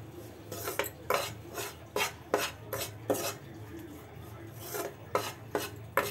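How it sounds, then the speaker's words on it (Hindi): Gram flour (besan) roasting in a pan for diwali peda, stirred without pause, so a spoon scrapes and clinks against the metal in quick repeated strokes over a soft background hiss. "ऐसे बराबर चलाते हुए भुनेंगे"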